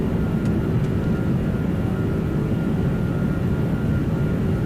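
A Lufthansa Airbus A340-600 airliner in flight from Dubai to Munich, heard as a steady, loud broadband rumble of engines and airflow that continues without a break and with no talk.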